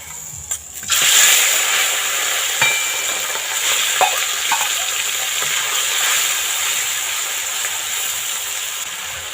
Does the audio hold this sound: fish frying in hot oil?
yes